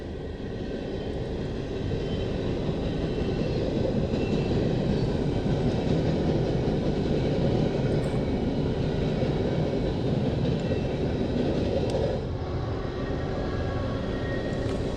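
A long freight train of tank cars rumbles steadily past at close range, a continuous heavy roar of rolling cars and wheel noise that holds for the whole stretch.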